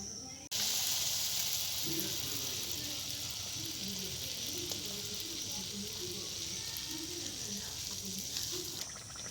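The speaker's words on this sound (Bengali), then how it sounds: "তেল গরম হয়ে গেছে। এখন আমি ভেজে নেব।" Pua pitha batter frying in hot oil, a steady bright sizzle that starts abruptly and continues loud and even throughout, with faint bubbling underneath.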